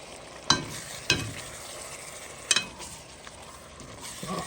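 Salted pork tails with potatoes cooking in a pot over lowered heat, stirred with a few sharp spoon scrapes and clinks against a soft background sizzle, close by with no talking.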